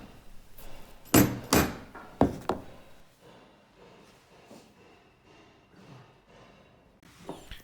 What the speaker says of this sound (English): The rubber mallet should be used for hitting timber